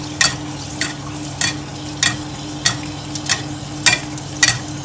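Pork rind chicharon sizzles steadily in hot oil while a utensil stirs it, producing regular scraping clacks about every half second over a constant frying hiss.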